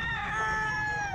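A rooster at an outdoor pet market gives a single loud, drawn-out crow close by, the harmonic call sustained for just over a second.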